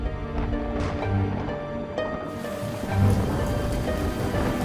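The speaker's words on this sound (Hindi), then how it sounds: "फिर से बारिश शुरू हो गई" Steady rain falling outdoors as a downpour starts again, a dense loud hiss of drops on surfaces with a low rumble beneath, continuous throughout with no talk.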